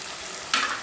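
Paneer masala with yogurt sizzling in oil in a pan, a soft frying hiss jumping into a brighter burst of sizzle and scraping as it is stirred, close up with no talk.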